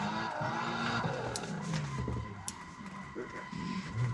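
Car tires skidding and squealing in a racing sim game driven with a custom-built handbrake, engine droning underneath, moderately loud and continuous.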